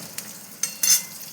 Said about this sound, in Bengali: এটা অল্প অল্প করে ভাজবো দুই ভাগে।